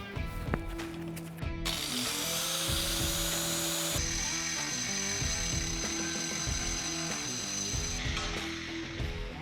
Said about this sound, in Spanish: con un disco diamantado, que es especial para porcelanato, logramos un corte preciso